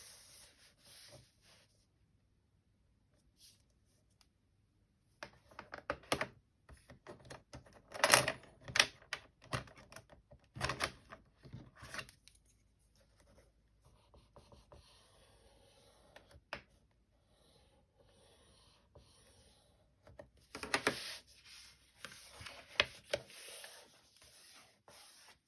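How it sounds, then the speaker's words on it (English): Scoring tool dragged along a fold line on 12 x 12 scrapbook paper on a scoreboard, giving quiet scraping and rubbing strokes in short bursts with pauses between, close up and with no talking. "I'm going to use my scoreboard. There we go, scoreboard, to make a score line for this to fold easily"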